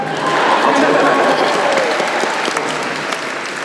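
Loud, steady applause from a large comic expo audience, dense clapping that continues through the whole stretch without a break.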